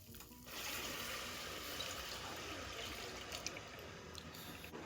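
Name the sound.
whole milk being poured into a cocoa and sugar mixture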